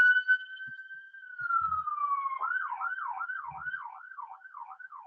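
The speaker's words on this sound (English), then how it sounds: "I got freaking an ambulance driving right by my office window." An ambulance siren passes an office window, a long falling wail shifting into a rapid rising-and-falling yelp, fairly close and alone over a quiet room.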